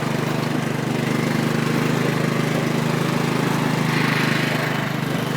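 A lawn mower engine runs steadily and loudly throughout, a continuous droning hum while it is driven hard through muddy ground, with no talk.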